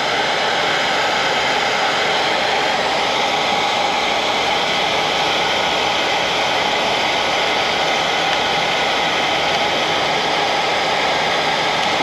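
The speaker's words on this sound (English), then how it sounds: "then apply a heat gun. The heat gun is going to melt the solder." Heat gun blowing hot air onto solder heat shrink tubing over a wire splice: a steady, loud, broadband whoosh with a constant hum that runs unbroken throughout, with no voices.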